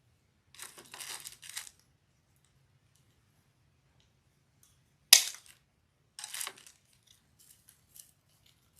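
Scissors cut a floral stem in two while a lemon and sunflower grapevine wreath is being made: a quick cluster of crisp snips, then a single sharp cut after a pause and a few more snips, close and alone.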